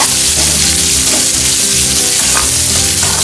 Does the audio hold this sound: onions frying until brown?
yes